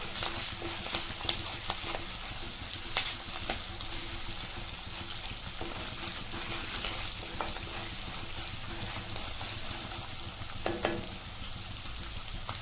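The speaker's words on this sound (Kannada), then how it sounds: "ಈಗ ಈ ಬೆಳ್ಳುಳ್ಳಿ ಜಜ್ಜಿಟ್ಕೊಂಡಿದ್ದೀವಲ್ಲ, ಇದು ಕೂಡ ಹಾಕೊಂಡ್ಬಿಡೋಣ. ಎಲ್ಲವೂ ಚೆನ್ನಾಗಿ ಫ್ರೈ ಆಗಬೇಕಿದೆ." Crushed garlic fries in a pan of oil for chivda mandakki, giving a steady close sizzle with scattered crackles and occasional stirring scrapes throughout.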